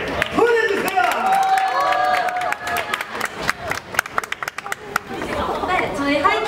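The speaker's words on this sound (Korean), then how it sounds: "다시 한번 우리 하이키에게 여러분 사랑의 박수를 보내주세요." Audience at a live K-pop show applauding and cheering, dense clapping and crowd noise that swells and then thins, with an amplified host talking over it.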